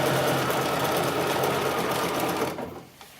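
A sewing machine stitching lace and tricot for homemade lingerie runs loud and steady in a continuous whirring drone, then slows and stops near the end, with no talking.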